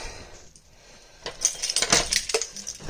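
Metal keys clink and jangle at a front door as it is locked at night, a short burst of sharp, close metallic rattles after a quiet start.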